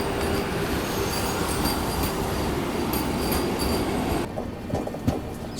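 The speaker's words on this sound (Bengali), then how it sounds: "ছেড়ে দিল আমাদের ট্রেনটি আলওয়ার জংশন রেলওয়ে স্টেশন থেকে" Lalgarh Superfast Express (20403) pulls out of Alwar Junction with a loud, steady rumble of wheels and carriages. The noise eases near the end, leaving a few clanks and knocks.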